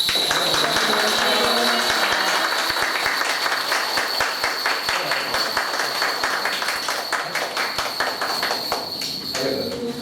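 An audience at a care home claps after a lively music performance, a sustained burst of many hands clapping, fairly loud and dense, keeping up for about ten seconds and thinning slightly at the end, with a steady high tone running underneath.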